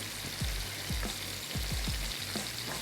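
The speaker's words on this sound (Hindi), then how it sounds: "हल्की आंच पे हमने इसको फ्राई किया है।" Kebabs frying in a pan over a low flame give a steady close sizzle and hiss, broken by several soft clinks and scrapes of a utensil against the pan, with no voices.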